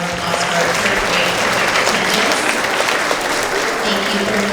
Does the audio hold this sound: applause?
yes